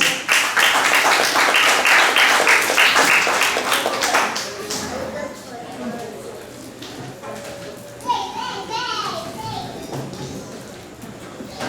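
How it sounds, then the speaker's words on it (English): Audience applause at a library open mic and poetry night, about four seconds of brisk clapping that drops into scattered claps, children's voices and room chatter. "Please give Min Min a round of applause"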